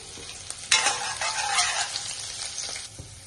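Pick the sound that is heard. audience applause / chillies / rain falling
chillies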